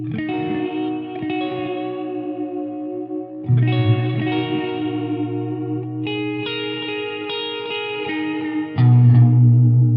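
Electric guitar chords ring out through a Keeley Parallax Spatial Generator pedal's lush, wavering modulated reverb with chorus-like shimmer, several strums sustaining and overlapping into a spacious wash.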